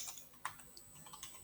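Typing on a computer keyboard, a faint run of soft irregular key clicks and taps, closely recorded in a quiet room with no voices.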